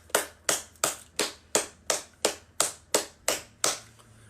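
About eleven single sharp hand claps in an even, steady rhythm, close and fairly clear with no other sound, each ringing off briefly.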